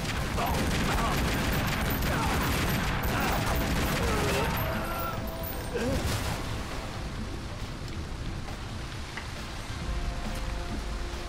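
An enemy shooting at the player in the video game Tomb Raider Legend, with rapid gunfire bursts in the first half that fade into softer clatter and background game ambience.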